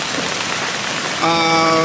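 Steady rain pours down on a cool wet day in Sabula, a dense close hiss of drops hitting surfaces that goes on throughout, with a humming tone joining near the end.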